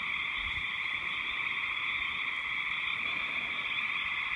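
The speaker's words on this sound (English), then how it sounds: "I've got the window open so I can hear the frogs though." A dense, continuous chorus of frogs croaks and trills steadily, fairly loud and unbroken, with no voices.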